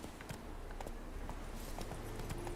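Geralt's horse Roach walking in The Witcher 3, soft irregular hoof clip-clops, faint and close, over a low ambient background.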